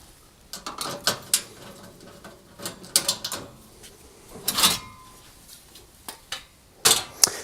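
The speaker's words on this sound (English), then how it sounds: "I'm going to start by removing this vent at the back of the cooker by undoing the 4 screws." Screws are undone from the rear vent of a Rangemaster cooker, giving scattered close metallic clicks, taps and scrapes in irregular bursts, with quiet gaps between them and no talk.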